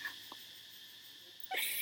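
Continuous high-pitched cicada drone, steady and faint in the background, with a couple of soft brief clicks.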